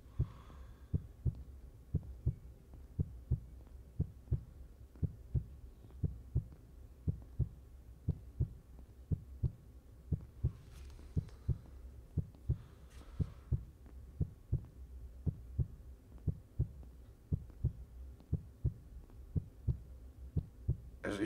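Steady low heartbeat thumps repeat evenly in a survival horror game, close and muffled, with faint breathy ambience and a couple of soft rustles behind them and no talking.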